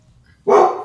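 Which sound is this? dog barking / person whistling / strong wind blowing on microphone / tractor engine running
dog barking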